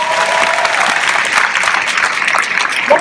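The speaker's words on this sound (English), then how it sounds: "let's clap it up for them." Sustained applause from a large keynote audience, a dense crackle of many hands clapping at once, loud and steady throughout.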